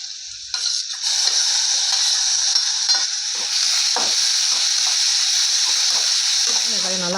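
Tomatoes sauté in oil in a pan for a Tamil green gram masala and ivy gourd stir-fry, a loud steady sizzle with scraping stirs throughout, under a voice.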